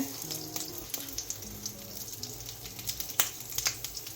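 Mustard seeds, curry leaves, cardamom and pepper sizzle and crackle in hot sesame oil, a steady close frying hiss with scattered pops and light stirring, no talk.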